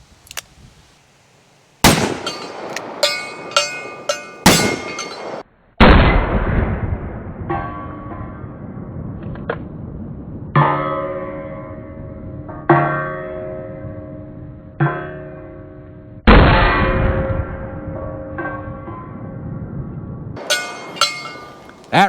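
A .500 S&W Magnum revolver fired at an outdoor shooting range, several sharp, very loud reports spaced seconds apart, each ringing out with a long metallic decay.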